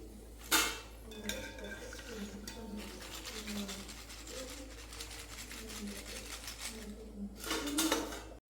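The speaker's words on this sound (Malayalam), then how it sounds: "അത് കോരി കൊണ്ട് കോരിയിട്ട് ജസ്റ്റ് ഒന്ന് കിലുക്കി നോക്കിയിട്ടുണ്ടെന്ന് വെച്ചാൽ അത് കിലുങ്ങും" Crisp fried banana chips rattle and clink as they are shaken in a metal slotted ladle, a busy close scatter of light metallic ticks lasting several seconds, with a sharper burst near the start and again near the end.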